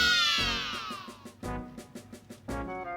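A cat at a cat-themed guesthouse gives a long, loud meow that falls in pitch, then a series of shorter, fainter meows at a close, steady pace, with no voices.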